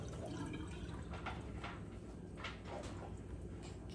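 Running water flows from a kitchen tap as hands are washed mid-cooking, a faint, steady hiss with a few soft splashes and drips.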